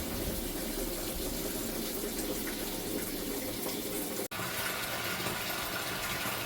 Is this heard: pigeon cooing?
no